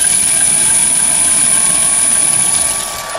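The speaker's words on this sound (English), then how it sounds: "this button here becomes a jog button for the spindle" A Chinese mini lathe runs its spindle on a three-phase motor through a VFD during a jog. The motor gives a steady, loud electric whine with a high tone over a broad hum, then eases off near the end.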